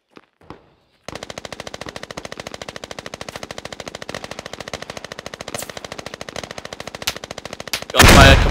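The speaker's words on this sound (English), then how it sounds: "Gunfire coming our way, weapon fired our way." Rapid machine-gun fire in the video game Squad rattles nonstop in long, loud bursts, ending in a sudden harsh blast of noise.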